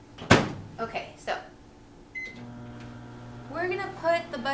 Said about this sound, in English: we're gonna put the butter in the microwave for about 30 seconds